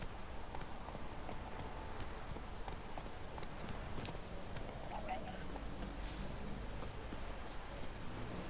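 Roach the horse trots in The Witcher 3, a steady clip-clop of hooves running through a busy, constant game soundscape with faint ambient noise.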